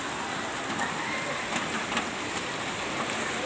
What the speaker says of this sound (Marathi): आजचा पाऊस तर जोरदार आहे